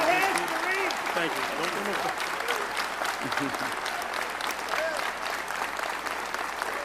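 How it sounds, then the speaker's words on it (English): An audience breaks into sustained, dense applause as a speaker is brought on, clapping loudly and evenly for several seconds with a few voices in the crowd and a brief word of thanks spoken over it. "Bring him on with a round of applause."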